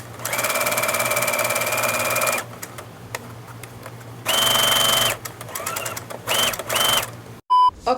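Sewing machine hemming folded edges of fabric triangle pieces, running in several bursts of fast whirring stitching separated by pauses and small clicks, close and loud.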